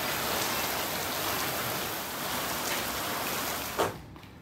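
Rain falls outside in a steady, dense hiss of drops that holds evenly for several seconds, with a brief knock near the end before the sound thins out.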